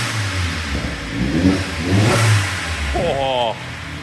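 A rebuilt Vauxhall Astra VXR engine revs up on dollies, a mid-pitched roar swelling and falling twice, with people talking excitedly nearby over the engine noise.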